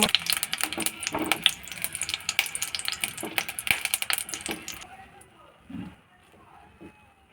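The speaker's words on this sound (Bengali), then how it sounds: "প্রথমে লঙ্কা দুটো ভেজে নিচ্ছি" Two chillies fry in mustard oil in a pan, giving a dense, busy crackle and spitting for about five seconds before it dies down to a quieter, sparse sizzle.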